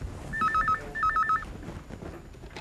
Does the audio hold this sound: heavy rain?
no